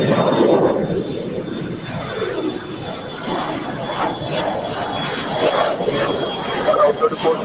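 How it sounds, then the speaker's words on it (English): China Southern Cargo Boeing 777 aircraft at LAX, a steady broad jet engine roar at moderate distance, with radio voices talking over it. "This is China Southern Cargo 777"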